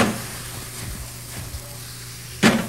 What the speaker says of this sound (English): And these mushrooms need almost no time at all to cook. Very little. By the time you sear them, saute them, fly them, they're ready.